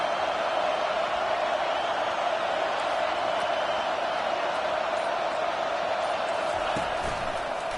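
A loud college football stadium crowd at a Buckeyes game roars steadily through a first-and-goal play, a dense sustained wall of cheering and noise that keeps going the whole time.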